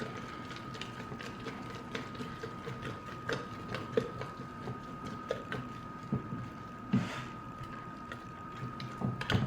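Fed sourdough starter being stirred and mixed in a container, giving a run of irregular wet clicks, scrapes and knocks, close and moderately loud, with no talking.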